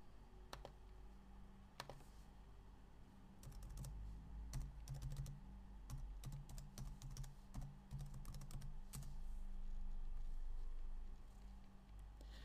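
Keys clatter on a computer keyboard in irregular bursts of quick taps and pauses over a low, steady hum, close and fairly quiet, with no speech.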